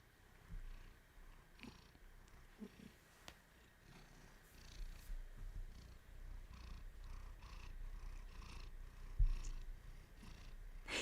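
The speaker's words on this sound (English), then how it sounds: "You might hear him, like, purring into the mic." A cat purrs close to the microphone in a soft, continuous rumbling rhythm, with a few faint knocks and a bump near the end.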